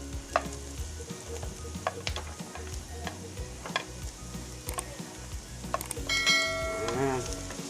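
Carrots sizzle and fry in a pan, with intermittent clinks and scrapes of stirring utensils, then a brief sharp squeal near the end.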